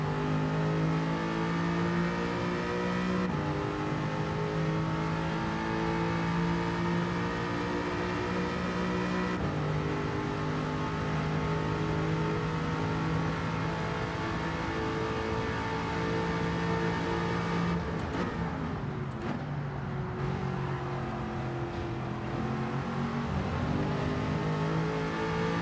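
Race car engine in Gran Turismo 7 revs and sustains loud, steady harmonic drones that shift pitch at gear changes, with a drop and a rise near the end, all without talk.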